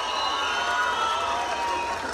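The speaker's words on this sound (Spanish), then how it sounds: "Un aplauso para ustedes," A rock concert audience applauds and cheers at a live show, a dense, steady wash of clapping and shouting voices filling the space.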